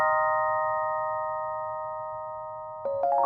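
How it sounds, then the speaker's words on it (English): Sustained tones of a vintage Fender Rhodes Model 73 electric piano sample from a Spitfire Labs library ring out as a held chord slowly fading, then a fresh cluster of notes is struck near the end, clean and close with no talking. "It says sampled from a rare Fender Rhodes Model 73."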